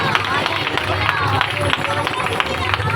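A congregation clapping loudly at a Sunday church service, brisk irregular hand claps over a busy background of crowd noise and voices.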